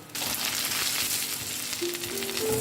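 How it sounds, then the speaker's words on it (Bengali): Breadcrumb-coated chicken cutlets (biscuit-crumb coating) frying on a low flame, giving a steady, dense sizzle with soft crackle throughout, close and continuous, with a faint tonal hum entering near the end. "এটাকে খুব স্লো জালে ভাজতে হবে"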